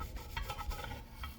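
Short rhythmic scrubbing strokes of a soft bristle brush scouring an Edelbrock air cleaner, quiet and close with no talking.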